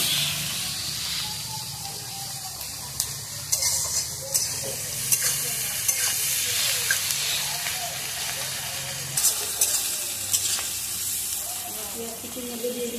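Chicken fries in a pan with a continuous hiss and sizzle, broken by scraping stirs and small knocks, heard up close with no talking.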